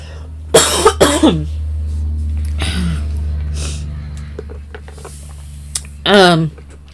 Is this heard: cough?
yes